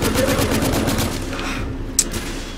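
Rapid gunfire in The Order: 1886, a steady run of shots close and fairly loud through most of the stretch, then easing off with one sharp report near the end.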